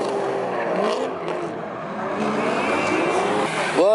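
Two cars tandem drifting at a drift day event give off a wavering engine roar mixed with rising and falling tire squeal, ending in a sharp, louder sweep of squealing tires.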